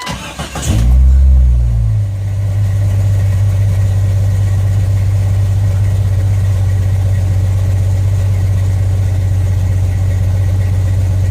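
Jeep XJ engine, just back together after a rear main seal repair, cranks and catches with a brief flare, then settles into a steady, even idle close by, with no talking.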